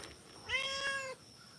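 A hungry cat gives a single drawn-out meow, fairly close and clear, lasting about half a second against a quiet background.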